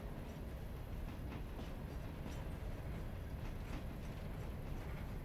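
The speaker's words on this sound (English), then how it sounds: "There's our other train down there after fixing our mistake." A train rolls through a rail yard in a steady, faint rumble with no distinct clacks or pauses, heard from a distance.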